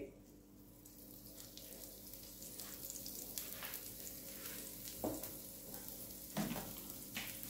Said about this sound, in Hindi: तो इस पे थोड़ा सा ऑयल डालते हैं, बिल्कुल स्लो हीट पे रोस्ट कर रही हूँ।